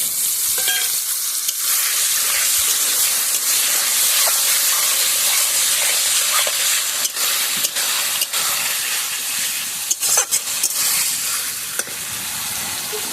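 Eggs fry in spiced masala for egg curry, a loud steady sizzle with a dense hiss and occasional sharp spatters and stirring knocks throughout.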